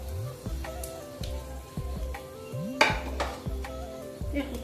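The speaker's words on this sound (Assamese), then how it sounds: "এই শুকান জলকীয়া দুটা ছিঙি দিছোঁ পিঁয়াজ দি দিছোঁ" Dried red chillies and onion drop into hot oil left from frying fish, seasoned with panch phoron, giving a steady sizzle under repeated clanks of a spoon stirring against the pan.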